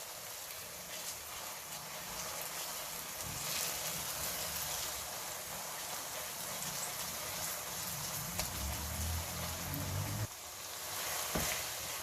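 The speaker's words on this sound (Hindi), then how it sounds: "ये देखिए कितना अच्छा भून रहा है।" Makhandi halwa roasts in a pan, a faint, steady hiss and soft sizzle with occasional light scraping, heard close but quiet throughout.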